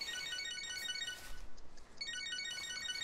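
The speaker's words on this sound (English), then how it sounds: "Oh, you got a phone call." A phone ringtone from the video game Catherine: Full Body, a bright repeating electronic chime that rings steadily over a low game background, briefly dropping out mid-ring before resuming.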